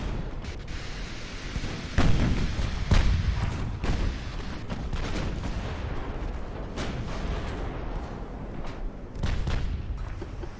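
Torpedo strikes on a warship in Ultimate Admiral: Dreadnoughts, several heavy booming explosions and gunfire-like cracks scattered across the stretch, loud thuds over a rumbling naval battle din.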